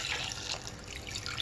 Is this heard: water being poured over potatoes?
yes